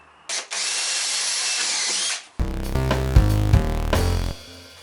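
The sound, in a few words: drilling small pilot holes in wooden shelf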